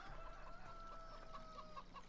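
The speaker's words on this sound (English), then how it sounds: "There's your chickens." Chickens in the Farming Simulator 17 video game cluck faintly in a quick, scattered series of soft calls over a low, steady background hum.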